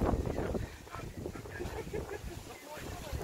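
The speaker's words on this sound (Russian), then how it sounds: "Ветрено." Steady outdoor wind rushes and buffets the microphone, a broad rumbling noise with faint voices somewhere in the background.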